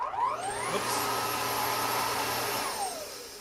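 A Dyson D22 vacuum cleaner runs close by, its whine rising as the motor spins up, holding a steady roar, then winding down near the end.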